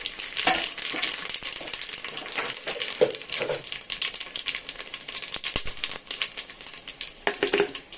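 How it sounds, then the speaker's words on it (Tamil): Whole cloves, cinnamon, cardamom, star anise and bay leaf fry in hot oil in a pan, giving a continuous close sizzle with crackling pops and occasional stirring rattles, with no speech. "கிராம்பு, சின்னதாக ஒரு 2 துண்டு பட்டை, ஒரு ஏலக்காய், இந்த ஸ்டார் பூ, பிரிஞ்சி இலை, இது எல்லாம் இப்போ இதில் சேர்த்துக்கலாம்"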